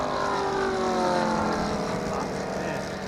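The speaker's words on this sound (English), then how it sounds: "I'm pretty sure it's a Golden Age racing plane." Radio-controlled model of a Golden Age racing plane in flight at an RC jamboree at an aerodrome, its engine a steady, fairly loud drone with shifting pitch bands as it passes, continuous with no talk.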